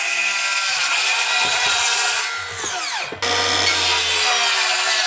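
A Kobalt XTR 7-1/4 inch circular saw rips a long continuous cut through wood with a loud, steady whine that briefly dips mid-cut and then resumes; someone speaks over it.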